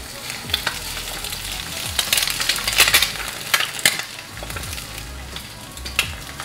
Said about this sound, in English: let's crack our egg on top